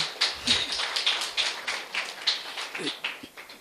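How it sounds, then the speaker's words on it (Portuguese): Light applause at an official award ceremony, a few hands clapping in a loose, uneven rhythm, fairly faint and sparse, with a brief murmur of voices. "forte aplauso para mama"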